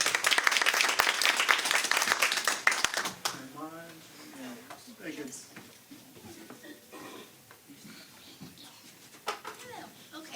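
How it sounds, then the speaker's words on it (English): Audience applause at an open mic night in a bookstore, a burst of lively clapping for about three seconds that dies away into scattered claps and chatter among the crowd. "So round of applause."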